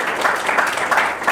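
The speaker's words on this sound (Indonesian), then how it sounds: "Kita tepuk tangan." Applause from a lecture class at a university in Bandung, a short burst of steady hand clapping from a room of students, close and fairly loud, with no voices over it.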